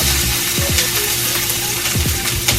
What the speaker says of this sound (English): I have a nice hot pan back here and I'm gonna add some olive oil to it, and then we're gonna add those green peppers and onions right to the pan